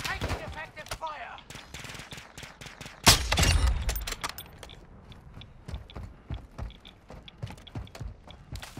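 Incoming gunfire in a military shooter video game: scattered sharp shots and rattling bursts, with one heavier impact standing out among a steady stream of distant cracks.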